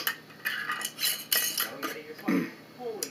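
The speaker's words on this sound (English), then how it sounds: "I split one stick of butter. Just cut it in half. Cut each half in thirds." A knife cuts a stick of butter into pieces on a hard surface, making several close clicks and light clatters as the blade meets the board, with a faint low murmur in between.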